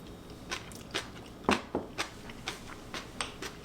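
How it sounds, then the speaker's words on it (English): Candied jalapeño relish crunches between the teeth in a run of sharp, close bites and chews, about eight distinct crunches spaced roughly half a second apart. "It's got that crunch that you get from candied jalapenos"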